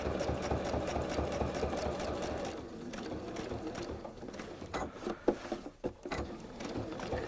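A sewing machine stitches fabric around a bucket with a steady, close mechanical whirr. Partway through, the run stops and breaks into a few scattered clicks and knocks as the fabric is adjusted.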